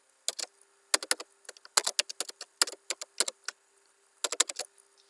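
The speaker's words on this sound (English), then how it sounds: "And we have to type it in again." Password typed on a computer keyboard, quick irregular bursts of close, crisp key clicks with short pauses between groups and no talk.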